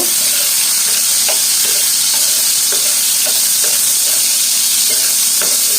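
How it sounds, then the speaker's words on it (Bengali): Shrimp coated in salt and turmeric fry in a small amount of hot oil, giving a loud, steady sizzle with repeated scraping stir strokes over it and no talking. "এখন এই যে লবণ হলুদ মাখানো অল্প পরিমাণে কিছু চিংড়ি মাছ দিয়ে দিলাম। এটা হালকা ভেজে নেব।"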